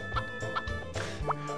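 Chicken in the video game Harvest Moon 64 gives a few short, clipped clucks in quick succession, ending on a brief rising squawk, close and clear with no talk.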